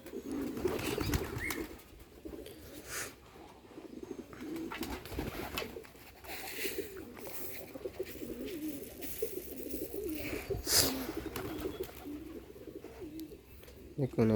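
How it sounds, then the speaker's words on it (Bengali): Rajshahi Giribaz pigeons coo repeatedly in a low, throaty rhythm, with occasional wing flaps, close by, while a person talks over them. "রাজশাহী গিরিবাজার কি সুন্দরভাবে ডাকতেছে"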